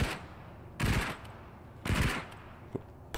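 Enemy gunfire in the game Into the Radius: two sharp loud bursts of shots about a second apart, each briefly crackling, then a faint single pop afterward, set against quiet ambience.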